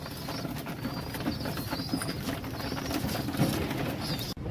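Pigeons kept in a loft, a flock of birds worth 30-40,000, coo in low repeated murmurs that come close and steady throughout, with wing rustles and scattered chirps in the background.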